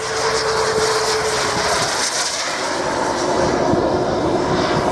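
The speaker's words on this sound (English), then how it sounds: "the red jet with his wheels down, coming in on final" A red Red Arrows jet flies low past an airshow crowd with its wheels down, its engine roar loud and steady throughout, a broad continuous rush with no break.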